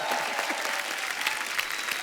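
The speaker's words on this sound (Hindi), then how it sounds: "बहुत जोरदार ताली हो जाए" Studio audience applauding on a comedy show, dense and steady clapping from a large crowd filling the whole moment, without talk over it.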